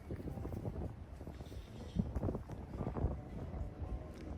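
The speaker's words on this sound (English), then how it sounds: "It's windy, so it's gonna be very noisy as well." Gusty wind buffets the microphone in rough, rumbling bursts, with a few louder thumps rising and falling throughout.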